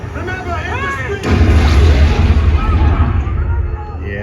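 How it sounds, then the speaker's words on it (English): A deep movie explosion from a home theater demo disc plays through a Denon or Marantz surround system, hitting suddenly after brief film dialogue with a heavy bass rumble that rolls on and slowly fades. "So as the explosion happens, watch the bass come behind you."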